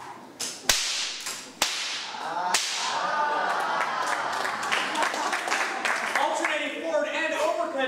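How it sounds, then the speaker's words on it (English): Two whips cracking overhead in alternation, sharp loud snaps at the start followed by a crowd cheering and applauding over a sustained roar. "Alternating overhead cracks sometimes results in a crowd going,"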